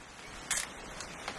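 A camera shutter clicks once in the game What Remains of Edith Finch, a short crisp snap standing out from a quiet background hiss, followed by a couple of fainter clicks.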